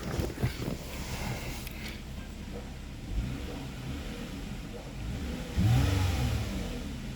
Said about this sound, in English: a little bit of a grunt from this V6, which I'll show y'all after I rev it a couple times